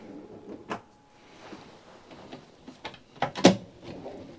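Kitchen drawers in a new family motorhome sliding open and shut, a series of soft knocks and thuds with one sharper closing clunk near the end, fairly close and quiet.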